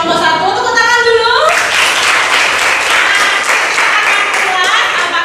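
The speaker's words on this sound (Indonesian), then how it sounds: "tepuk tangan dulu" Students in a classroom clap together after a group presentation, a dense burst of applause that begins about a second and a half in and holds steady and loud to the end, with a voice speaking just before it starts.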